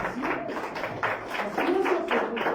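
A church congregation clapping together in steady, rhythmic applause, several pulsing waves of hands at moderate distance, with voices murmuring underneath.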